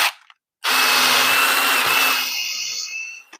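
A Forstner bit bores into wood in a workshop, a close, loud whirring grind that starts abruptly after a short silence, holds steady for about two seconds, then fades as it winds down.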